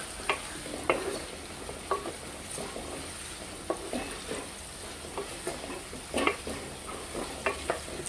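Onions sautéing in a pan for chicken biryani, a soft continuous sizzle broken by frequent scraping stir strokes at an irregular rhythm, close by, with no talking.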